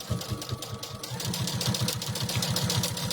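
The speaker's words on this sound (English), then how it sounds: "we're going to stitch from here to here" A sewing machine stitches fabric for a folded hexagon table runner, its needle chattering in a fast, even mechanical rhythm that runs without a break and stays close and clear.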